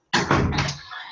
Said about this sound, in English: Let me shut the door really quick.